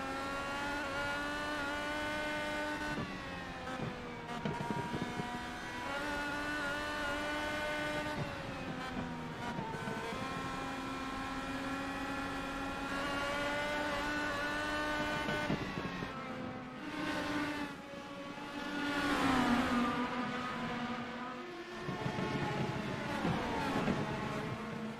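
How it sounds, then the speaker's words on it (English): An onboard view of an Indy-style race car running laps at Five Flags Speedway: a loud, continuous high-pitched engine drone that rises and falls as it revs through corners, sometimes lifting sharply, with no talk over it. "We're riding with Johnson here for a couple laps to just let you take in the sights and sounds"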